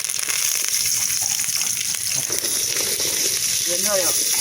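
Curry leaves frying in hot oil for a village-style mutton masala, a loud continuous sizzle and crackle close by, with a brief voice heard faintly in the background.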